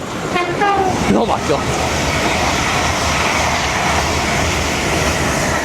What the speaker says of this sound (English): Passing through now will be a LNER Azuma from London King's Cross to Aberdeen